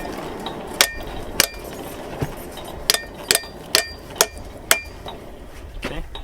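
Hammer blows on heated steel being bent over for forge welding, about a dozen sharp ringing metallic strikes at uneven intervals, close and fairly loud over low background noise.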